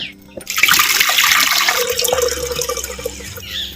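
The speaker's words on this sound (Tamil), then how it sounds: "கிழங்கு வேக வைக்கிறதுக்கு தேவையான பச்சை தண்ணியை சேர்த்து" Raw water gushes and splashes steadily into a clay pot of yam for a few seconds, close by, after a brief quiet start.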